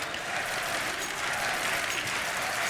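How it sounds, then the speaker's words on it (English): A live esports crowd at a Counter-Strike semifinal on the Train map at DreamHack Masters Malmö roars in a dense, continuous wash of cheering and chanting, loud and steady throughout. "There's a chant we haven't heard in a while."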